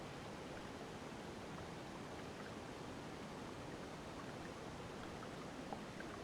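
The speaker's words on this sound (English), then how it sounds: "The water's starting to pick up a little bit. I can actually start hearing a trickle now." Creek water trickling along the Mt Keira track in the Illawarra bush, a steady, soft, even wash of flowing water with no distinct breaks, faint and continuous throughout.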